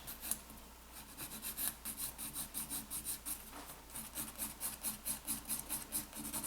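An acrylic nail surface is roughed up with quick, repeated scratchy rubbing strokes, faint and close, in a fast steady rhythm with no speech.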